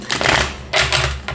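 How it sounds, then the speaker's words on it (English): A deck of tarot cards being shuffled by hand, heard as two close bursts of crisp, rapid riffling with a short pause between them and a quieter flick at the end. "Just give it an extra shuffle to make sure"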